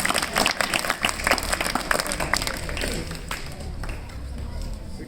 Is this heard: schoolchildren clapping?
yes